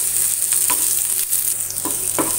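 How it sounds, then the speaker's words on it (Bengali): Chopped onion fries in a little oil for a cabbage mash, a loud, close, steady sizzle with a few brief spatula scrapes and taps against the pan. "পেঁয়াজটাকে আরেকটু ভেজে নিব।"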